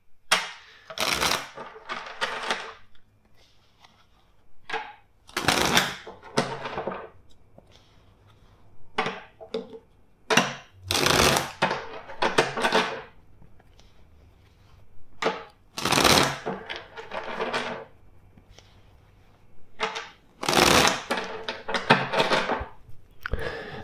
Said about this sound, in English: First, let's shuffle the deck four times for you.